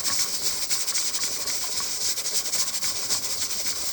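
A pressure canner on the stove processing homemade spaghetti sauce, its weight jiggling while steam hisses continuously and fairly loudly, a steady bright hiss with faint rapid rattling pulses and no talking.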